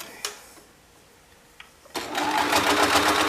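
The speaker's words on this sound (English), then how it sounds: "So I'm going to finish hemming this" After a few faint ticks, a sewing machine hemming fabric starts up and runs in a loud, steady mechanical whir close by, with no one speaking.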